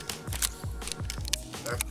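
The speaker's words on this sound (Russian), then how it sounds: "Патронов-то нет, ты просто щелкаешь нижним этим затвором" An empty shotgun action in Escape from Tarkov gives a quick run of dry, hollow clicks, about three or four a second, close and crisp, with talk going on alongside.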